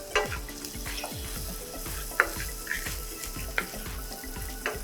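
Onions and green chilies sizzle steadily in a frying pan, with repeated scraping stirs of a utensil punctuating the constant crackle up close; no voices.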